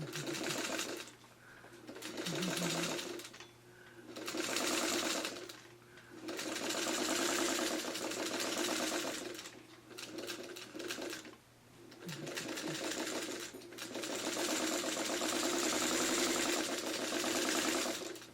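A sewing machine stitches an orphan quilt block in repeated runs of rapid, whirring motor stitching, close and loud, broken by short pauses between bursts.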